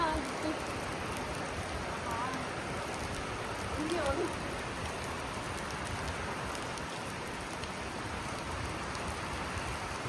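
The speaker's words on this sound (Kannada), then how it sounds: "ಜೋರು ಮಳೆ" Heavy rain drums steadily on surfaces throughout, a dense continuous patter, with a faint voice briefly audible beneath it.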